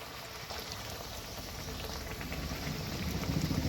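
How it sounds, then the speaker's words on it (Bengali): Semolina snacks drop into hot oil in a pan and fry with a steady, bubbling sizzle. The sizzle is faint and constant at first, then swells and crackles more densely toward the end. "এবার এই তেলের মধ্যে আমি এক এক করে ছেড়ে দেব"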